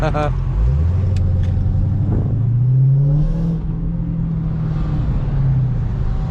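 A loud Dodge Challenger SRT Hellcat engine hums and revs with a deep, echoing rumble, its pitch rising and holding steady as if driving through an enclosed tunnel, in the rain.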